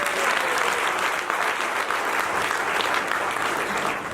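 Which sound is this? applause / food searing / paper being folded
applause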